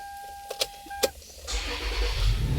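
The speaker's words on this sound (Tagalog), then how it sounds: "So engine start." A Toyota Fortuner's engine is started: a few sharp clicks and a short chime tone, then the motor cranks and catches at about 1.5 seconds, settling into a steady, fairly loud idle rumble.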